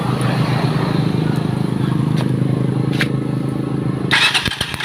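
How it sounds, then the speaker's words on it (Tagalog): A motorcycle's electric starter cranks the engine of a bike with a hard-start electrical fault, a loud steady mechanical churn close by with brief clicks, ending in a rougher burst near the finish. "si starter yung gagamitin natin."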